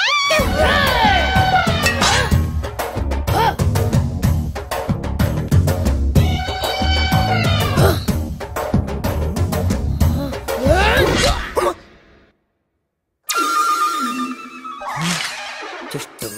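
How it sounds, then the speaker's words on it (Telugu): A phone ringtone made of children screaming and shouting plays loud and close in a film scene, in a dense, chaotic burst. It cuts out abruptly for about a second and then starts again. "ఈ రింగ్ టోన్ విన్నావా? ఇది పిల్లల అరుపు."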